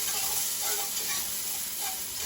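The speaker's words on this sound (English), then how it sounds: "I'm gonna put my onions in that I diced up." Diced onions sizzle in bacon grease in a hot pan with a constant, dense crackling hiss throughout, close and steady with no talk.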